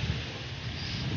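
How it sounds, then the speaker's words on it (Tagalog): Strong monsoon wind gusting across an open seaside field lined with coconut palms during kite flying, a steady loud roar and buffeting rumble on the microphone with no voices. "Lakas ng hangin."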